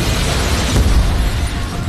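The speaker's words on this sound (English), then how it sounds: "These massive sequences with cars flipping and explosions everywhere." A dense, rumbling boom fills the clip, like a sustained blast from a film action scene with cars flipping, loud and continuous.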